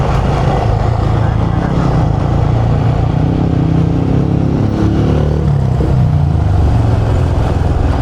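A motorcycle engine runs loud and close during a motocamping ride in Itogon, Benguet, a steady rough roar mixed with wind rumble that holds constant throughout.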